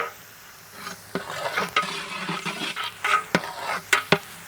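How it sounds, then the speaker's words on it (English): Green chilies, carrot and soya beans sautéing on high flame, a frying hiss broken by repeated scraping stirs and sharp clicks of a utensil against the pan. "Green chilies. Soya beans. 5 minutes saute on high flame."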